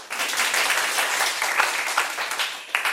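Members at a Toastmasters club's third anniversary gathering applaud warmly, a short burst of steady, close clapping lasting a few seconds.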